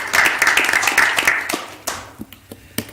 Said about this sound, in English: So y'all give them a round of applause for their service